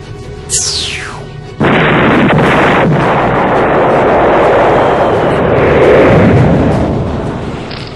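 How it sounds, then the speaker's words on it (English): A rising whistle streaks upward, then a huge sustained blast of explosive rumble and crackle fills the scene, loud and continuous before slowly easing. "Now let's watch some fireworks"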